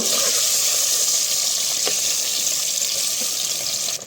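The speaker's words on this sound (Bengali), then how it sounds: "ডিমগুলো দিয়ে ডিমগুলো হালকা এবার ভেজে নেব" Boiled eggs fry lightly in oil in a clay pot, a steady loud hiss and sizzle throughout with a brief clink midway and a soft knock near the end.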